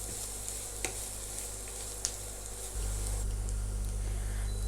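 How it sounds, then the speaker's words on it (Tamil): Grated coconut mixture fries in a pan for a quick breakfast dish, a steady hiss with a couple of soft stirring clicks that swells louder partway through. "தேங்காய் போட்டதுக்கப்புறமா ஒரு நிமிஷம் நல்லா ஃப்ரை பண்ணியாச்சு."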